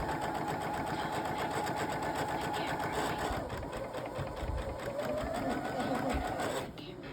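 A sewing machine stitches a scant quarter-inch seam on a quilt block with a steady, rapid mechanical whir, a faint voice talking beneath it, and the motor stops near the end.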